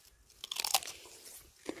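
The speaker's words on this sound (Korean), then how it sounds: "레디쉬 먹는 방법으로 이걸 먹으면 되겠어요" A Jindo dog bites into a red radish and chews it, with a short cluster of close, crisp crunches followed by softer chewing and one last faint bite.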